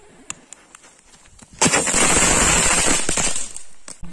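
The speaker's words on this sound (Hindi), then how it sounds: "नेक्स्ट होता है हमारा टिनटिन पटाखा, तो ये यूनिक टाइप का पटाखा है। तो चलिए इसको भी चलाते हैं।" A Tintin firecracker goes off during Diwali: a few scattered clicks lead into a dense, loud burst of rapid crackling pops that lasts about two seconds and then fades.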